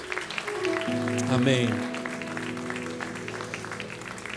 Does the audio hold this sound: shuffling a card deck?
no